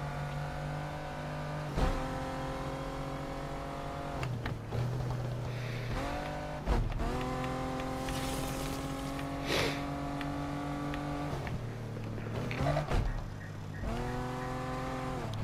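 A car in the video game Need for Speed Unbound drives and revs, engine tones rising and falling in repeated gear-shift sweeps over several seconds, steady and prominent with brief bumps and skids.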